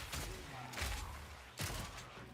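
Grenades exploding in the Mercenary video game, three quiet, muffled thuds with short broadband bursts spaced under a second apart against a constant low background.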